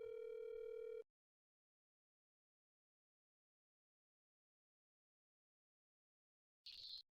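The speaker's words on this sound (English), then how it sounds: "Oh, it's ringing." A short burst of telephone ring tone, then several seconds of silence before another brief ring starts.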